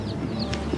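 Chickens cluck in a farm setting with soft, close, intermittent clucks over steady low background noise.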